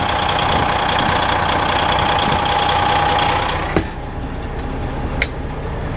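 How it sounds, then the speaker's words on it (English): A Detroit diesel fire truck engine idles steadily at close range with a low, even rumble, then the noise drops away, leaving a few sharp clicks in a quieter background. "Detroit diesel purrs like a kitten."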